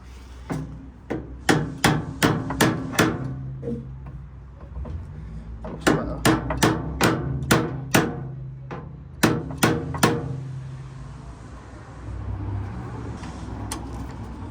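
A hammer taps at a bolt hole on a crash-damaged Ford Fusion under repair, in three bursts of quick, sharp, ringing metallic blows, close and loud, with short pauses between bursts.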